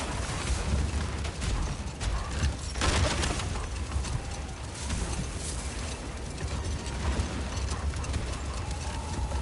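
Rhythmic clip-clop footfalls and creaking from domesticated Gulon animals pulling a sled in the God of War video game, steady and close, with mechanical rattles and an occasional animal call.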